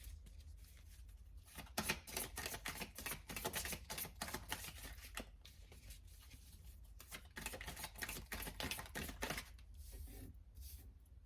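Tarot cards shuffled and laid out on a table, a steady run of dense papery riffles and soft slaps with brief pauses, close and fairly quiet, with no talk.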